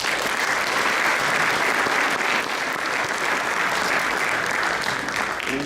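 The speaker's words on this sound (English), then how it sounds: "Would you give a nice round of applause to Mr." Steady, dense applause from a crowd at a 2017 inauguration ceremony in Derby, sustained and even throughout with no break or voice over it.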